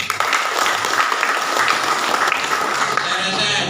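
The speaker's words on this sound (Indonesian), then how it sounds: "Tepuk tangan." An audience at a halal bihalal gathering of an organisation's central board in a restaurant breaks into applause, a busy, fairly loud patter of many hands with some voices mixed in underneath.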